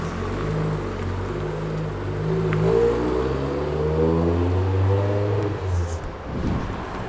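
A Renault Clio RS200 track car drives hard, its engine note rising and falling through revs in steady, close harmonics that hold for several seconds before easing off at the end.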